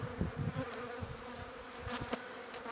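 Honey bees buzzing around an open hive during the first inspection of the year, a dense continuous hum with individual bees droning close by.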